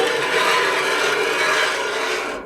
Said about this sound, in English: right before I cook, I always do extra scraping